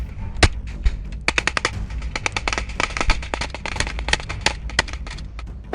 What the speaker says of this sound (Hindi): इसके बाद इस जीप पर ताबड़तोड़ फायरिंग भी की गई